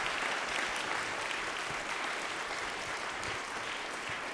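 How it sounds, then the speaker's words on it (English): Audience at a community concert honoring composer Florence Price applauding, a steady, dense wash of clapping sustained throughout, moderately distant and even in level with no voices standing out. "can we give a round of applause?"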